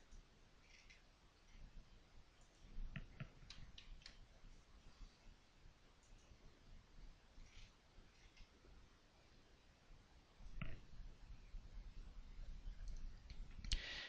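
A computer mouse clicks faintly a few times as sharp, sparse ticks over a very quiet background, with no talking.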